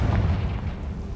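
A Confringo fire spell detonates in Hogwarts Legacy, a deep, booming blast whose heavy low rumble fills the whole moment without fading.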